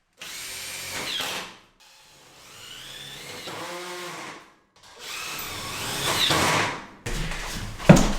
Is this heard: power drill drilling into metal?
yes